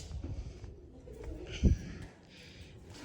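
Soft pigeon cooing in the background with a brief low thump midway, set against faint outdoor ambience; no talking.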